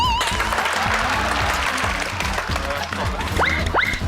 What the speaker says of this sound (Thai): ทุกคนปรบมือให้ดะ